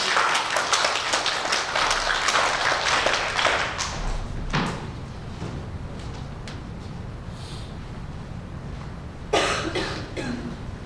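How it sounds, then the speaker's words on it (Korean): A congregation at a Sunday worship service applauds to welcome a pastor to the front. The clapping is dense and steady for about four seconds, then thins out, with a few thuds and a brief burst of noise near the end. "큰 박수로 환영하도록 하겠습니다"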